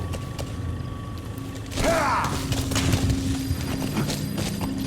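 Horse hooves clip-clop in the video game Metal Gear Solid V: The Phantom Pain, steady mid-distance steps amid mechanical creaks and game ambience, with no talk.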